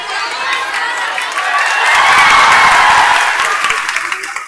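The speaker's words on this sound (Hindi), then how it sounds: "हंस दिए, ताली बजा दिए।" A large crowd of students applauds loudly in a dense, continuous wash of claps and cheers that swells to a peak midway and then starts to fade.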